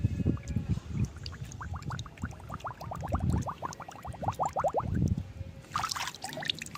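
Water pouring into a bucket on a rooftop vegetable garden, a gurgling, rising trickle with bubbling pulses that climb in pitch as it fills, fairly close, followed by a brief splash at the end.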